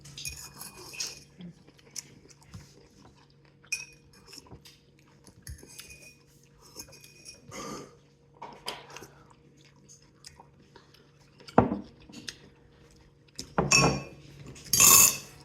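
Someone eats Chinese vegetable soup, with scattered soft clinks of cutlery against dishes, quiet chewing and a few louder clatters near the end, close and intimate with no talk.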